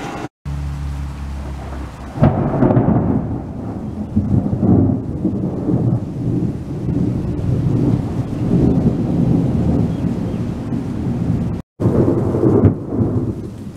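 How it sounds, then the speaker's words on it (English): Loud thunder rumbles on and on through a thunderstorm as rain falls steadily, deep rolling booms swelling and fading over a constant wash of rain, with no voices. "It has been thundering for at least 2 hours, and it's only just started raining."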